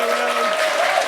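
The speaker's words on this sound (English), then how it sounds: "Let's give him a round of applause." Audience applause at a live film quiz podcast recording, a dense steady wash of clapping throughout with a faint held tone underneath and no talking.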